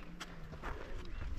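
Pack horses hauling beer kegs plod along a hiking trail in Torres del Paine, Patagonia, their hooves knocking out a few faint, uneven clip-clops against outdoor background noise.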